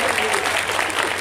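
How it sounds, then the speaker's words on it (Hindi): An audience at an open-air Hindi poetry gathering, an all-India kavi sammelan held at a college in Beniganj, Hardoi, breaks into loud, dense, continuous applause for the whole short moment, with crowd noise mixed in. "एक बार जोरदार तालियां बजा करके आपको"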